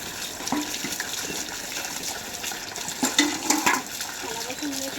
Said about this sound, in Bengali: থালা বাসনগুলো মেজে নিচ্ছি।